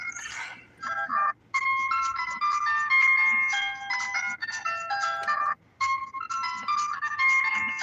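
A phone ringtone plays through car speakers, a bright looping electronic melody of chiming notes repeating in phrases with short gaps, fairly loud and steady for several seconds, with no talking.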